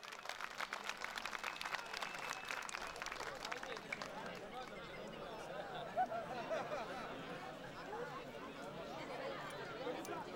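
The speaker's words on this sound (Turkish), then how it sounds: "Alkışlıyoruz pehlivanımızı." A crowd at a wrestling arena in Gazipaşa applauds a wrestler with a steady, dense wash of clapping and murmuring that thickens after the first few seconds and carries on to the end.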